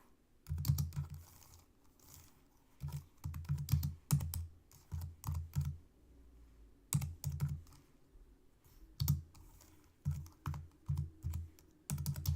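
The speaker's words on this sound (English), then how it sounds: "Trying to type with one hand." Typing on a computer keyboard with one hand, close and fairly loud: irregular bursts of clicking keystrokes separated by short pauses, with no talk over it.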